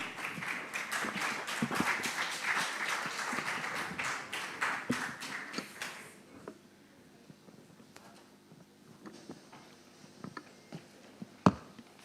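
An audience at a national investment quiz competition gives a burst of applause lasting about six seconds. The clapping fades into quiet, broken only by a few scattered taps and one sharp knock near the end.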